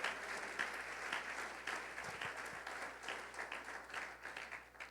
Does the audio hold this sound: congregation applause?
yes